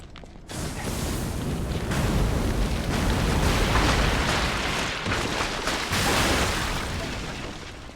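Enemies blowing up in the video game Lies of P, a loud rumbling explosive roar that swells and lingers for several seconds with bursts and crackling debris, no voices over it.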